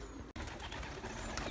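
Racing pigeons coo softly around a loft, low murmuring calls under steady wind or background noise, fairly faint and continuous with a brief cut near the start.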